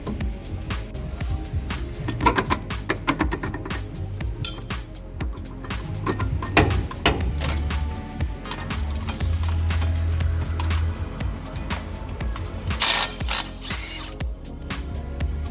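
An 18-volt cordless power tool ratcheting and clinking on the shafts of a 79 Series Landcruiser, with irregular metallic clicks, short buzzing bursts and clanks close by in a workshop, and no talking.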